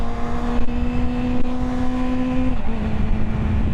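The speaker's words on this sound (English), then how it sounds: "Not necessarily traffic, but just driving bumper to bumper." A car driving slowly in close bumper-to-bumper traffic, a steady low engine hum with a sustained tone that shifts slightly partway through, heard from inside the vehicle with no talking.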